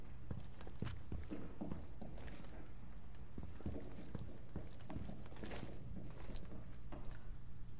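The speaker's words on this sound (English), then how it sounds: "Oh, I hear footsteps behind." Soft footsteps in the video game Rainbow Six Siege tap faintly and unevenly over a quiet background hum, with no talking.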